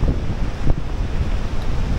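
Strong wind on a mountain hike up Gunung Pulosari buffets the microphone in a loud, continuous low rumble with gusty swells, no speech heard.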